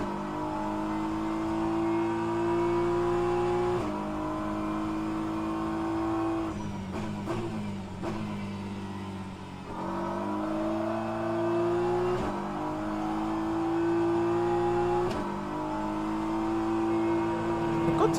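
A race car engine in rFactor 2, driven around the Bahrain circuit, drones and revs continuously. The pitch climbs through the gears and drops sharply at shifts and braking, close and loud throughout.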